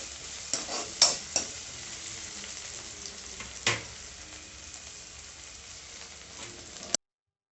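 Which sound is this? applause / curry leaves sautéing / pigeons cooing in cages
curry leaves sautéing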